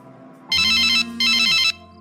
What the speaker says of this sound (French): Je lance l'appel. Elle n'est pas connectée? Je réessaye.